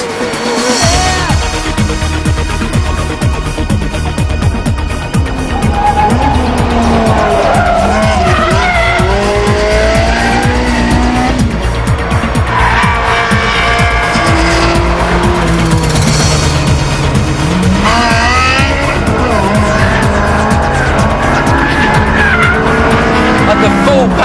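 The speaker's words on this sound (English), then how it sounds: "put the handling to the test on Ferrari's own Fiorano circuit" A Ferrari with an F1-style gearbox driven hard around Fiorano circuit, suspension in sport mode and traction control adjusted. The engine roars loudly and steadily throughout, with wavering tire squeals and rising and falling revs as it corners.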